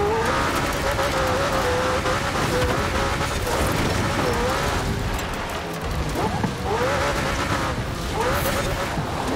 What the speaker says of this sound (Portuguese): Ah, o carro fica só acelerando, zoando.